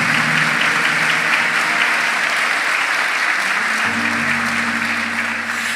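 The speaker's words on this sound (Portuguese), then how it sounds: "Dê uma salva de palmas mais forte" A church congregation breaks into loud, continuous applause during Mass, a dense even wash of clapping with a faint sustained organ-like tone underneath.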